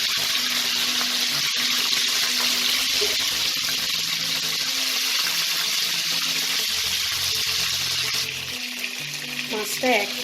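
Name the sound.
Bhetki fish pieces frying in hot mustard oil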